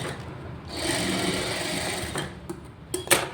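A sewing machine stitches blouse cloth in one steady whirring run of about a second and a half. It ends in a few light mechanical clicks and taps, with no one talking.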